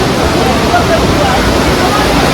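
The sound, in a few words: rushing river water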